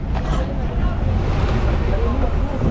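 A transfer boat moves across the sea off Thailand toward an island, with steady rushing water, waves and wind buffeting the microphone, loud and continuous.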